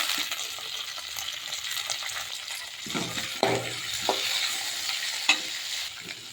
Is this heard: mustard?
yes